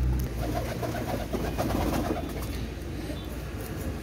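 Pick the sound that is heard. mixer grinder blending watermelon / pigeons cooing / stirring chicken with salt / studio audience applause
pigeons cooing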